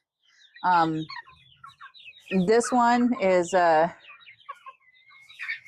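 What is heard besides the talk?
chicks and young roosters clucking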